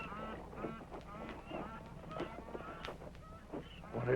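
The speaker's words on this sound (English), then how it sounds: "Listen to them birds" Birds honk repeatedly in the woods in a radio drama scene, goose-like calls overlapping irregularly at moderate distance against a quiet background.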